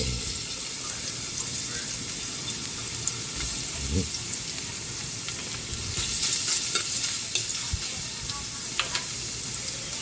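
Garlic frying in hot cooking oil in a pan for pinakbet, a steady close sizzle with occasional stirring clinks and brief scrapes throughout.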